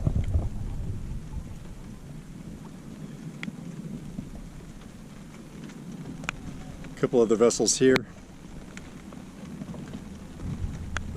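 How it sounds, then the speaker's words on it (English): Steady light rain falls around a sailboat anchored offshore in clear shallow water with other vessels nearby, a soft continuous patter under a voice, with a brief louder rustling burst near the middle. "It's still raining a little bit."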